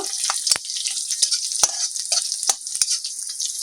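Crushed, chopped garlic and split green chilies fry in mustard oil in a wok, giving a bright, crackling sizzle close by, with repeated sharp spatula scrapes and clicks as they are stirred.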